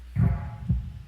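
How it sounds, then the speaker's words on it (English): Two deep, muffled heartbeat thumps from the game Ruina: Fairy Tale of the Forgotten Ruins, evenly spaced about half a second apart over a faint low background hum. "You hear those heartbeats? That is the sound of spookiness."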